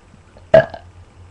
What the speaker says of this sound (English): I'm supposed to burp.